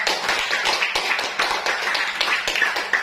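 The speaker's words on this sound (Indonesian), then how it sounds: "Tepuk tangan untuk kelompok." A group of students in a classroom claps steadily for a few seconds, a dense patter of hands at close range with no voices.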